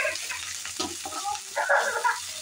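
Coriander and paneer frying in a pan sizzle and crackle while being stirred, a moderate hiss broken by soft scraping and small bubbling pops.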